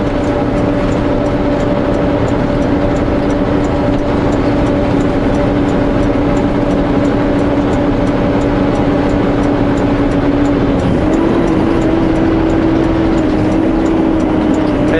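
A Sutco Super Bee hay truck with a long rear trailer passes on a mountain pass road in the Similkameen Valley, a loud continuous diesel drone with a steady low tone that shifts in pitch partway through.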